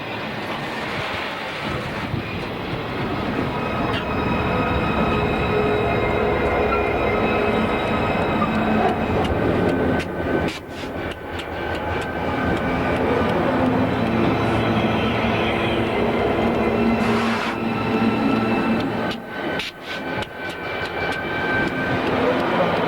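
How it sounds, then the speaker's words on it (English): A Southern Pacific freight train hauled by SD70 locomotives rumbles past on a coastline main line, a loud continuous roar of engines and rolling cars with brief dips and swells, heard close from the cab. "Where else could you see a train provide 2 run-bys on a main line at once?"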